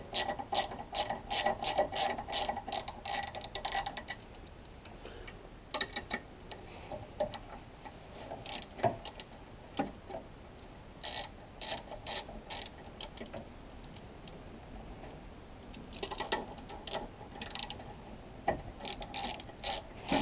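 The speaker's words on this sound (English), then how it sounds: "Now let's take our 10mm socket on extension and remove these bolts" A ratchet with a 10mm socket on an extension clicks in fast rattling runs as bolts and nuts come off a VW Sharan engine, with pauses between bursts and no talking.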